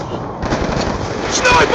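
DSR sniper rifle firing in a first-person shooter video game on the Frost map: a loud, sharp report with a dense, rumbling tail, up close, amid other game noise.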